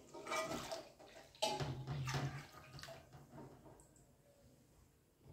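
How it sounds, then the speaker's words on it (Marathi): Buffalo milk poured into a kadhai, a soft splashing, gurgling pour that swells in a few bursts and then tapers off into quiet trickles, heard close and alone. "इथे आपण 1 लिटर दूध कढईमध्ये आटवण्यासाठी टाकणार आहोत"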